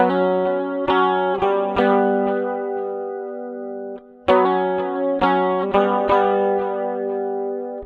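Clean electric guitar chords strummed alone on a single-pickup Jerry Cantrell Rampage replica, ringing and sustained with a slight shimmer, restruck several times with a brief pause near the middle.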